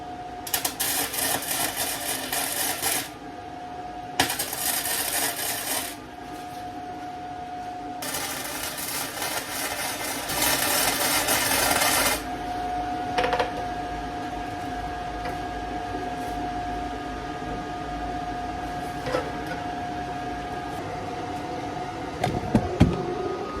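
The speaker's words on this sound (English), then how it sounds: "Now, time to tack these in." Link bars get tack welded in a series of loud welding bursts lasting a few seconds each, separated by pauses over a steady background hum.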